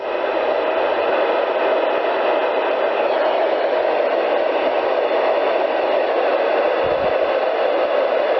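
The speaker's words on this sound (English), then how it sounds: "Now we're going to put the static up and see if we can hear these guys come in here." Steady hissing radio static fills the whole stretch at a constant, fairly loud level, a band-limited noise with no voices, heard while listening for a pass of the International Space Station over Ohio.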